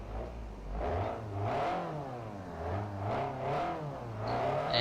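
A car engine in Forza Motorsport 4 revs up and down in repeated rising and falling surges during drifting on the Fujimi Kaido course, fairly quiet, with a steady rhythmic pattern of throttle bursts.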